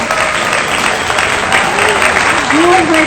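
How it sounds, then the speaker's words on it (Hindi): Loud applause from an audience at a poetry recitation fills the room, steady clapping throughout with a voice speaking over it. "वाह वाह वाह, जोरदार तालियां।"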